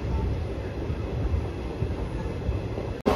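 The Tirupathi Express passenger train runs steadily after restarting, a continuous close rumble of wheels and carriage noise, cut by a brief sharp break near the end.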